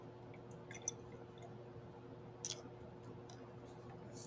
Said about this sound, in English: use my pipette to squeeze in some more water